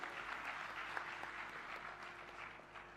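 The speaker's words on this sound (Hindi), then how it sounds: "मैया के लिए बार ताली बजाइए" Listeners at a Hindu devotional story recitation applaud a woman in the crowd with a sustained, even round of many hands clapping, fairly soft and continuous for the whole stretch with no voices.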